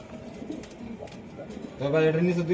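Pigeons kept for sale, some with eggs and chicks, cooing close by; soft low coos early on, then a fuller, louder cooing burst near the end.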